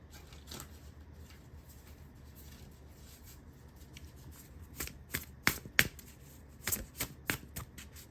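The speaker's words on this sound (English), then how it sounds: "let me shuffle the cards and see what is coming through" Tarot cards shuffled by hand in a quiet room: a soft rustle at first, then a run of crisp, close riffles and taps in the second half, with no voices.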